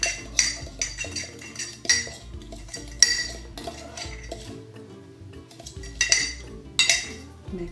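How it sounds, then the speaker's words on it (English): Fork clinking and stirring against a mug while mixing cookie dough ingredients, with repeated sharp scraping taps in an uneven rhythm, close and fairly clear, no talking. "Mix these together with a fork."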